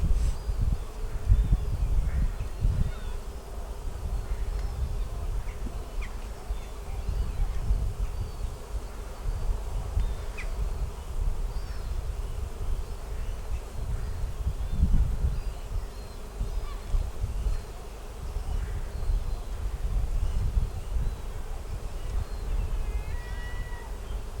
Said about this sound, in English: there's about maybe a few thousand bees in that box as well